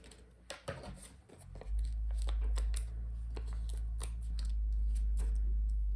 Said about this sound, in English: then cut it out with my scissors